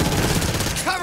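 Rapid automatic gunfire from a Back 4 Blood co-op session fills the whole second with dense, loud bursts, and a brief voice-like tone rises near the end.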